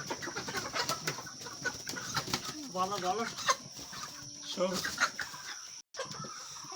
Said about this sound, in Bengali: এই দেখো কী করে মুরগি ধরে